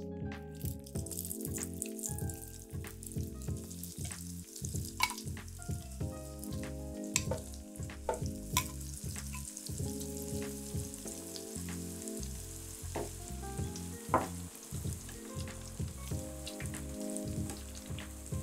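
A St. Paul sandwich deep frying in a fryer gives a steady, dense sizzle and bubbling throughout, with scattered clicks and scrapes from a spoon holding it together, no talking.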